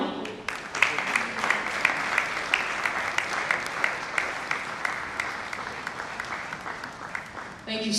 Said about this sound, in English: Don't stop clapping now.